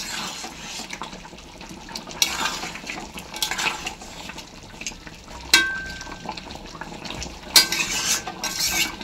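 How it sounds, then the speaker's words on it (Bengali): A utensil stirs chicken curry with shahi garam masala in a pan, scraping and clinking against the metal in irregular strokes, with a few sharper knocks and a soft sizzle beneath, close up and without talking. "এবার একটু নাড়াচাড়া করে নেব, নিয়ে নামিয়ে নেব।"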